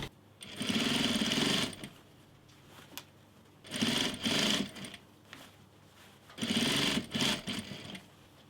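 Sewing machine stitching fabric in three separate bursts of fast, steady whirring, each lasting about a second, with quiet pauses between them, close by and with no talk.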